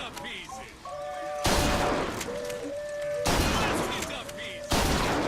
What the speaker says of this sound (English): So we're using a shotgun here. Like a model 1882 12 shotgun.